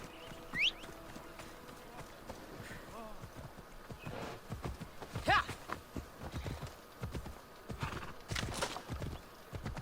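A horse gallops in the video game Assassin's Creed Odyssey, its quick rhythmic hoofbeats running steadily throughout with a short whinny near the start.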